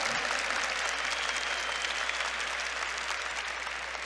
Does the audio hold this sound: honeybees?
no